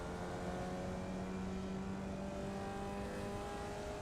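A Formula Vee race car in iRacing at Summit Point Jefferson, engine droning as the throttle comes back on after braking: a steady buzzy tone rises slowly in pitch, continuous and moderately loud.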